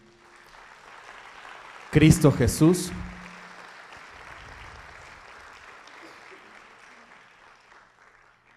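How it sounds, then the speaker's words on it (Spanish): A church congregation at a Christmas service starts clapping right after a preacher's short spoken line, a soft, diffuse patter of many hands that carries on steadily at moderate volume. "¿Qué tal si le damos un aplauso a ese"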